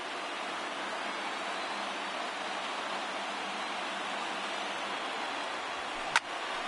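A stadium crowd of over 39,000 in an MLB baseball video game, St. Louis Cardinals hosting the Philadelphia Phillies, roars in a steady, loud, continuous wash of cheering, with one sharp knock near the end.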